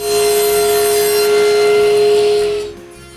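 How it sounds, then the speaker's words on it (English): A saw cuts through a thin piece of mahogany with a loud, steady whine for about two and a half seconds, then stops abruptly. No voices. "I cut a thin piece of mahogany so I can make 2 wall plates."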